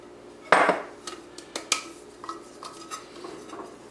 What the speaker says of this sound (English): I'm just going to pop the flour in there and give it a shake.